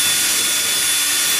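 A power drill whines at high speed, loud and close, with a brief continuous bite through foam and wood.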